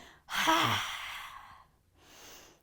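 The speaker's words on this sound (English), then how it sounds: "If you want to take that lion's breath," A single forceful lion's-breath exhale during a yoga class, mouth open and tongue out, a loud breathy rush that fades over about a second, followed by a softer, quieter breath.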